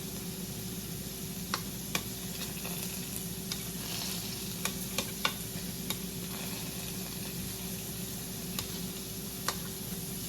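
Peppers fry in a pan on a home stove with a steady, even sizzle, broken by scattered sharp ticks and taps of stirring utensils against the pan.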